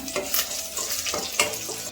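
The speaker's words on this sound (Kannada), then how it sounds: "ಎಣ್ಣೆ ಕಾದಿದೆ ಒಂದು ಟೇಬಲ್ ಸ್ಪೂನ್ ಸಾಸಿವೆ ಹಾಕೊತಾ ಇದ್ದೀನಿ" Mustard seeds, chopped green chillies and curry leaves crackle and sizzle in hot oil for a sambar tempering, with loud bursts of popping and stirring that rise and fall in quick waves.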